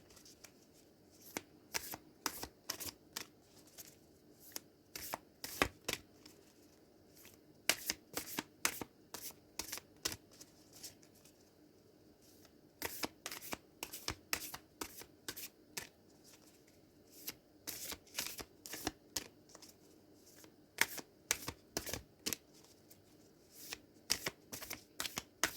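Someone shuffles an Angels and Ancestors oracle card deck in quick riffling bursts. The rapid card flutters repeat in clusters with short pauses between them, close up and fairly quiet, with no talking.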